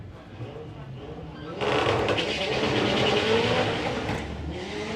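A lightweight Ford Fiesta drag car with a Z-Tech turbo creeps into the pre-stage at a drag strip, idling low before its engine suddenly revs up loudly and stays raised for several seconds.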